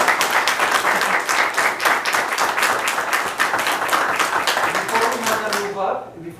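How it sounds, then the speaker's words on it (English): A school board meeting audience gives a dense, steady round of applause that fades out at the very end, with faint voices underneath. "Yes, round of applause."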